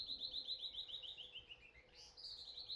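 Small birds outdoors in Mexico give fast, repeated high chirps in steady trills, fairly faint and distant against a quiet background.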